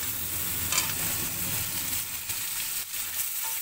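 Chopped onion frying with meat in a pan, a steady bright sizzle with occasional soft stirring scrapes, close and continuous with no talk.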